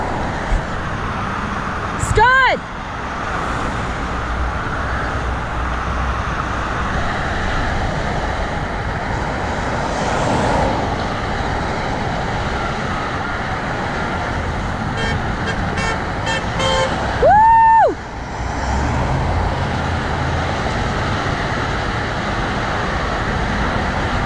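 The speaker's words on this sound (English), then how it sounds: "Much traffic." Road traffic on the QEW highway rumbles steadily, with two sharp car horn toots standing out, one early and one later, and voices talking over the background.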